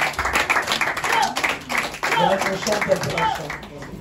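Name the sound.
congregation applauding and cheering for the Lord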